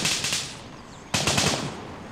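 Gunfire in the tactical shooter Gray Zone Warfare: two long bursts of rapid automatic fire, dense and loud, separated by a short pause in which the shots ring off.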